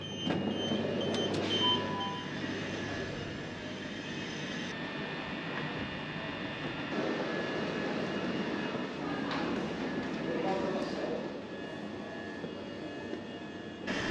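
A train rolls into a very quiet Ramsgate station, with a continuous low rumble and engine drone, some faint squeals and clanks, and no voices over the roughly fourteen seconds.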